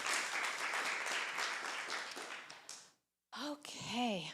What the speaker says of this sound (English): let's just say a round of applause